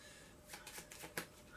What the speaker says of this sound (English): now I'll shuffle these cards again